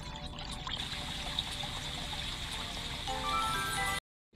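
Water trickling and gurgling through pipes in the Flow Water 3D Fountain Puzzle game, a steady soft liquid stream that grows a little louder before stopping abruptly.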